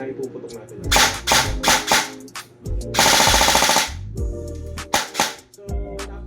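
Bolt EBBR airsoft rifle firing in rapid bursts, loud and close, with mechanical clatter between volleys and a long sustained burst midway.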